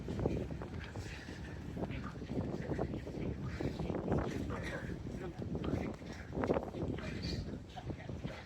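Steady wind gusting along a beachfront promenade in Costa Teguise, Lanzarote, a constant rough rumble with buffeting against the microphone and someone talking over it.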